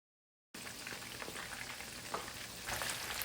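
Chicken pakora deep-frying in hot oil, a steady crackling sizzle that starts abruptly after a short silence and continues alone, close and even, brightening slightly toward the end.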